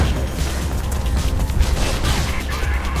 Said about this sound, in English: Okay, here comes the flashbang.